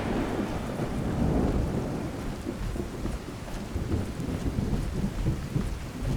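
A thunderstorm in the video game Fallout: a deep, sustained rolling rumble of thunder over a steady hiss of heavy rain on surfaces, loud and continuous with no voices.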